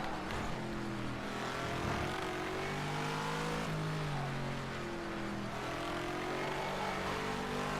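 A race car engine drones steadily during a night race in a video game, loud and continuous, its pitch rising and falling through gear shifts and revs.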